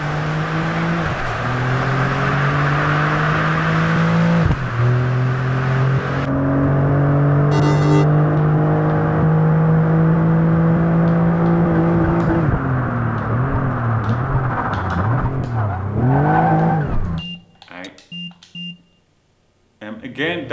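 A racing video game car engine revs through sustained harmonic tones with repeated pitch drops and blips as it downshifts, loud and continuous before cutting out near the end, with a voice talking over it.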